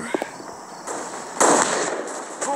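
Sniper or rifle shots in the Guns of Boom shooter game: short sharp cracks followed by a louder bright blast with a sustained ringing tail, close and prominent over a steady game backdrop.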